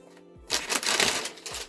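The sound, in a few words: tissue paper being removed from figure packaging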